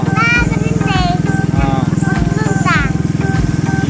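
A motorcycle engine runs close and steady with a rhythmic low throb while a parent rides with a young son on the way home from school, and voices talk over the engine.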